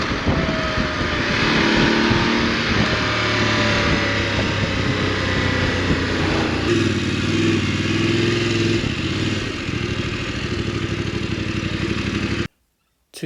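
A 2024 new-model motorcycle's engine drones steadily and close on an open road, its pitch shifting slightly as it rides, before the sound cuts off abruptly near the end.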